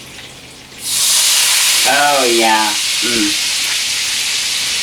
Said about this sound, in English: the first thing I'm going to do is throw in a splash of vanilla. And you're going to listen to that sizzle.